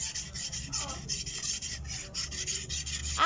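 A bolo knife being sharpened by hand, a steady, continuous rasping scrape of steel being filed or rubbed, loud and close with no talking.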